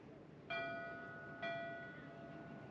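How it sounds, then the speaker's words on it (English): A bell at a harbor entrance, heard from an anchored sailboat, rings twice about a second apart, each clear metallic strike fading slowly over quiet background noise, faint and distant. "where that bell is ringing."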